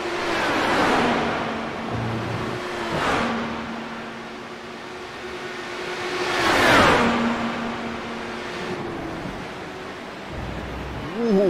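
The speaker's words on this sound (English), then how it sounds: "Gavin Sanders is going to get a run down the straightaway or into the kink." Race cars circle the Road America circuit in the iRacing sim game, engines droning at steady pitch down the straightaway, with cars sweeping past in loud whooshing passes and pitch shifts, no talk over them.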